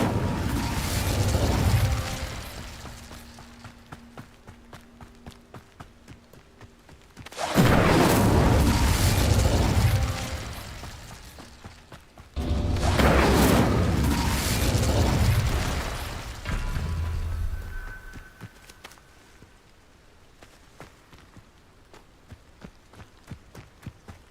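Incendio fire spell cast in Hogwarts Legacy inside the Room of Requirement, three loud whooshing fiery bursts that swell and roar for several seconds each before fading, separated by quieter stretches.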